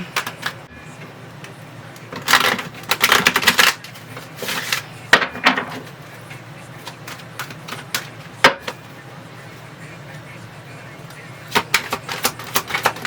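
Tarot cards being shuffled and drawn at close range, bursts of papery riffling and flicking snaps in irregular clusters separated by quieter pauses, with no talking.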